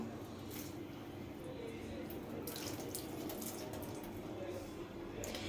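Soft steady trickle of water being poured onto a gas stove top, with splashy bursts now and then, fairly quiet and continuous.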